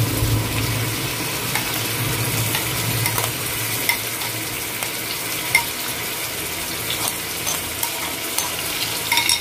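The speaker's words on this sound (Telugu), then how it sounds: "సో పన్నీర్ మసాలా మొత్తం వేసేసుకొని బాగా ఫ్రై చేసుకోవాలి" Paneer masala and green chilies fry in a pan with a steady sizzle, broken by faint scrapes and stirring clicks throughout; no voices.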